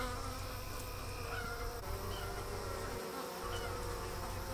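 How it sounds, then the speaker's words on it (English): Dense, steady buzzing of honey bees at a hive entrance, with guard bees inspecting arrivals; a close, continuous hum with a low drone and scattered higher wingbeat whines, no voices. "Notice them grabbing and inspecting every bee that comes in."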